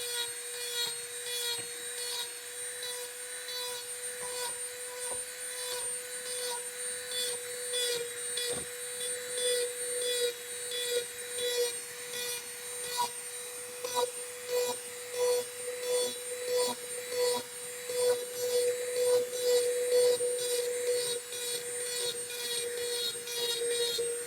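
A steady high-pitched rotary tool whine runs throughout, with irregular scraping and grinding bursts as it carves into PVC, loud and close.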